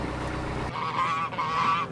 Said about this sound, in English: You may remember these geese from our journey here.